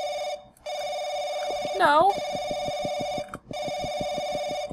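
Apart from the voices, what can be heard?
phone ringing in the video game Paranoiac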